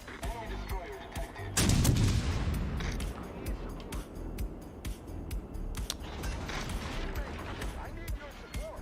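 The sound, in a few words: ship guns firing in the video game World of Warships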